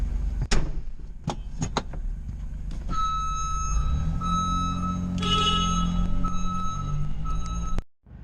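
After a few clunks and knocks, a vehicle backup alarm starts up with a sustained high electronic tone over a low engine rumble, continuing for several seconds before cutting off abruptly.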